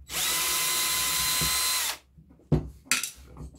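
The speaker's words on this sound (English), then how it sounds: "I've got 4 screws here. Let me see if I can find the right bit for them." A power driver bit unscrews screws from a Dremel 3000 rotary tool with a loud two-second whir. It stops, and a few sharp clicks and rattles of parts being handled follow.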